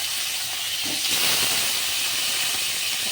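Pomfret fish fries in hot mustard oil in a karahi, giving a loud, continuous bright hiss that swells slightly midway and holds steady throughout.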